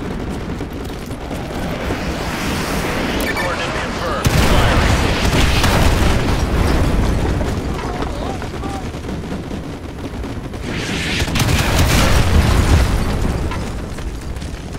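Artillery strike explosions in Call of Duty: Modern Warfare 2 Remastered: heavy, continuous rumbling booms mixed with crackling gunfire, loud and close, with a fresh surge of blasts partway through and another swell near the end.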